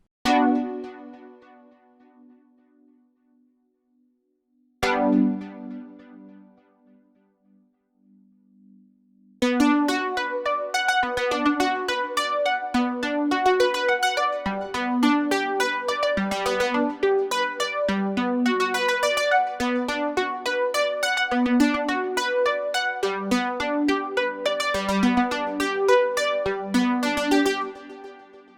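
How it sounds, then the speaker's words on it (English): A bright, plucky Hive 2 synth patch plays two lone notes that decay slowly, then launches into a busy, rhythmic run of short plucked notes, steady and upfront. "I have this Arc Plucky Bird using Hive 2 synth, and it sounds like this"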